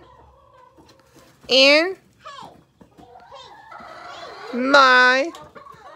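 Hens and a chick cluck and squawk in a backyard flock, two loud bursts of calls close by, with a person talking softly between them.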